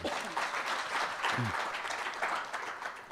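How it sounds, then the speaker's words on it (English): Audience applause at a governance dialogue event, a steady dense wash of clapping that holds at even loudness throughout, with a brief voice briefly surfacing in the middle. "A round of applause,"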